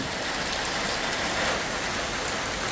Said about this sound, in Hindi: तुरंत भयंकर बारिश भाई।